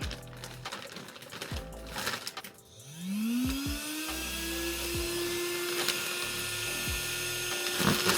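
A vacuum sealer's pump draws air out of a bag with a steady, rising motor whine that settles into a constant drone, preceded by clicks and handling clatter.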